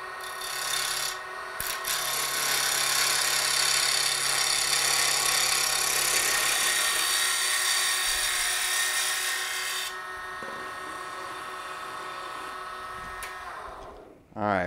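A wooden dart or pen blank spins on a lathe while a Robert Sorby gouge cuts it, making a steady, loud rasping hiss that lasts about ten seconds, then drops to a quieter whir of the spinning lathe.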